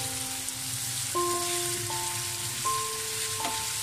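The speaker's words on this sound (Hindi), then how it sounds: "अब मैं इसको अच्छे तरीके से पैन के अंदर फ्राई कर लेता हूँ" Kaleji, goat liver, frying in a pan hisses and crackles steadily up close, while a few sustained musical tones play underneath, with nobody speaking.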